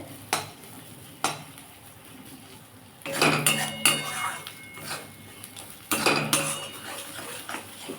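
Kharkol leaf paste stir-fried in a pan: metal spatula scrapes and clanks against the pan in bursts over a low sizzle, close and fairly loud, with no talking.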